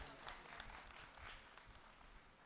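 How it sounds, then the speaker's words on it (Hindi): An audience at an outdoor religious gathering in Khekra, Baghpat, breaks into a burst of dense, sustained clapping that stays fairly even and then tapers slightly, faint in level, with no talk over it. "एक बार इस आनंद के लिए जोरदार ताली हो जाए"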